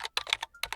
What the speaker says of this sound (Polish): Na laptopie piszę maile.